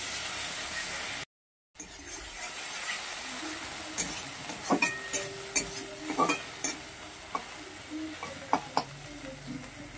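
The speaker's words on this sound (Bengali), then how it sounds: "এবার পেঁয়াজ গ্রেট করে রেখেছিলাম, সেটাকে দিয়ে দিচ্ছি। এটাকে একটু ভালো করে আমি ভেজে নেব।" Grated onion goes into hot oil over whole cumin in a pan, giving a steady low sizzle with a short gap, then repeated clinks and scrapes of a utensil stirring through the mixture, close and moderately loud.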